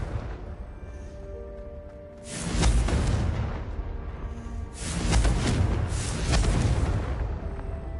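Confringo explosion spell cast in the video game Hogwarts Legacy, two loud booming blasts a couple of seconds apart, each with a rumbling tail, over a low background hum.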